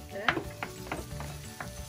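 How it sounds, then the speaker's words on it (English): Chopped onion and garlic sauteing in a pan, a soft steady sizzle with several scraping stirs of a utensil, close and quiet with no talking. "So we will just saute them for a minute."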